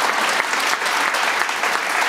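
Steady, dense audience applause at a religious sankirtan gathering, loud and continuous throughout with no pauses and no talk over it.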